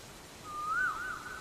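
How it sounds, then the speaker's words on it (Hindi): A koel (cuckoo) gives a single clear, whistle-like call that slides up and then falls back, heard alone over quiet outdoor background. "ये तो कोयल की आवाज है।"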